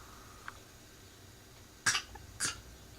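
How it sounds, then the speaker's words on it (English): Two short, harsh coughs in quick succession, close and fairly loud, preceded by a faint small click in an otherwise quiet room. "Oh, that's a terrible cough."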